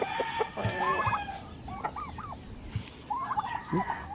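An adult male turkey gobbles and clucks in rapid warbling bursts, with other fowl calling nearby against an outdoor background. The calls are moderately close, and faint voices can be heard.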